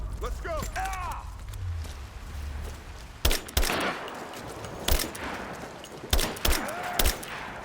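Gunfire bursts in Rise of the Tomb Raider during a covering-fire exchange, sharp loud cracks arriving in separate volleys after a quieter stretch, with shouted voices between shots.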